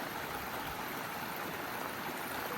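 Water in Harper's Creek rushes in a steady, dense broadband wash, loud and continuous with no pauses, and no voices are heard.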